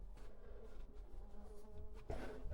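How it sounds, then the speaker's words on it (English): A housefly buzzes close by while someone explores old ballrooms and rabbit warrens, its faint whine rising and falling as it circles, with a louder passing swell near the end and no talk. "I've got a fly follow me down here. It's always great. Gotta love the buzzing."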